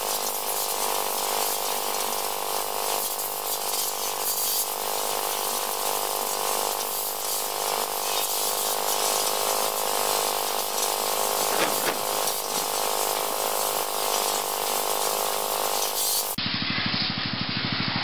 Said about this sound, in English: and then hose it out until the water runs clear.